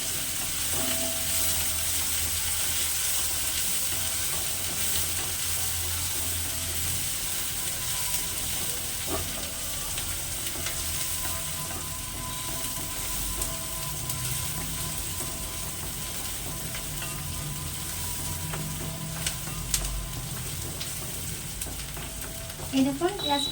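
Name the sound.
onions frying and stirred in a pan for chicken biryani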